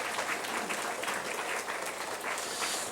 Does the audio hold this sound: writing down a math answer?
no